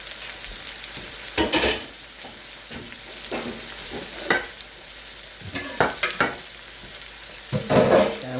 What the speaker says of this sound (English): And we'll just saute it.